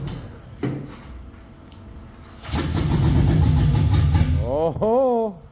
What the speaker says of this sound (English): Open headers are going to sound right. It's going to sound like a pump with a truck.